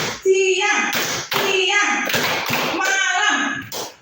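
An elementary school class plays a clapping game, with sharp bursts of claps landing in short rhythmic groups between loud, chanted voices.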